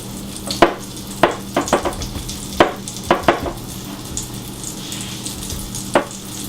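Gluten-free, dairy-free fish laid into a skillet, with a steady background sizzle broken by several sharp clicks and taps from the pan at uneven intervals; no one speaks.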